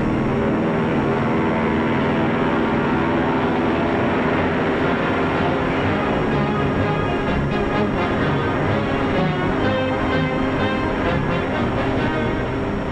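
Lockheed military aircraft, Hudson bombers and a P-38, drone in a loud, steady engine roar that holds without a break, with a dense, thick tone.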